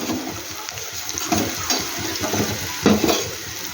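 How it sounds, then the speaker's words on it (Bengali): Steady frying hiss from a pan with occasional scraping and stirring clatters, fairly close, no voices. "দেখো ভাজাটা বেশ আমার হয়ে যাচ্ছে"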